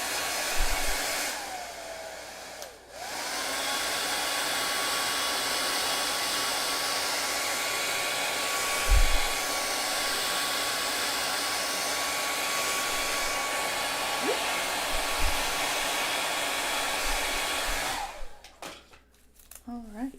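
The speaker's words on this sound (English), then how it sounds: "now I'm going to use the blow dryer real quick." A blow dryer runs steadily and loudly for about fifteen seconds with a constant whine, starting and stopping abruptly, while coloring with pencils and pens goes on nearby.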